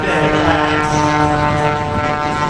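A propeller airplane flies low along the taxiway at the Great Florida Air Show 2021, its engine roaring loud and steady with a droning tone throughout.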